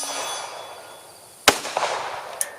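FN 545 Tactical .45 ACP pistol fired outdoors at targets, one sharp loud shot midway followed by a faint metallic ping, with some distant echo.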